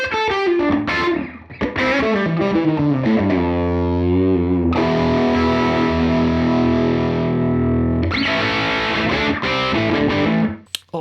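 An electric guitar plays through a UAFX pedal on its brilliant channel with added saturation: a ringing sequence of distorted notes followed by sustained, crunchy chords, loud and without talk.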